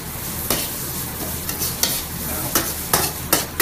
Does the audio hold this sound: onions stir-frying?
yes